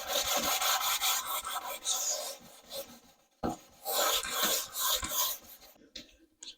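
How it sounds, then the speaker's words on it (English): Hand sanding the cut edge of a plexiglass sheet with 220 grit sandpaper, a close, raspy back-and-forth scraping in repeated strokes with a brief pause in the middle. "Make sure that you sand it with 90-degree angle towards the edge."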